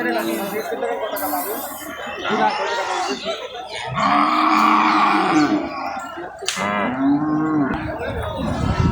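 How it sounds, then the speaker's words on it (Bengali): Several cattle moo loudly in long, drawn-out calls amid crowd chatter and voices at an Eid cattle market, with one especially deep, sustained low bellow in the middle. "অনেক গরু"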